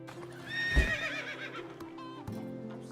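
Horses in a farming video game whinny with bright, wavering neighs over a steady clip-clop of hooves, one close and loud near the start, then quieter calls trailing off.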